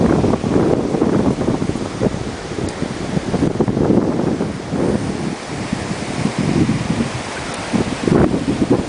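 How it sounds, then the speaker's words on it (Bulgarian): Beach with surf rolling in and strong wind buffeting the microphone, a loud continuous roar that swells and eases in broad waves, with no talking. "Ето сега сме на плажа"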